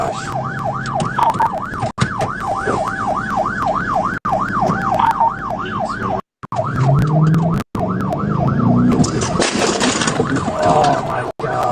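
A police car's wailing siren sweeps up and down steadily and loudly through most of the scene, cutting out briefly in places, with traffic rumble and people talking underneath.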